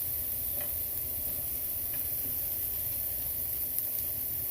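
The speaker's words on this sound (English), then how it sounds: "I'm starting with my onions, sauteing my onions" Onions sautéing in a pan give a soft, steady sizzle at low volume, continuous and close with faint ticks, no voices over it.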